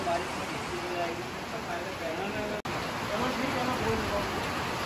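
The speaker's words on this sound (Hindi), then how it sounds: "तो अब तेज मूसलाधार बारिश हुई है" Heavy torrential rain near a cafe at a dome glamping site in Rishikesh forms a steady, dense hiss throughout, with a voice speaking over it.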